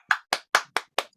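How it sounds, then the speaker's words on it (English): Five sharp hand claps in a quick, even rhythm, close and crisp, from a small online gathering thanking a speaker after a nature conservation talk in Wales. "You can unmute yourselves and give Julian a clap if you like."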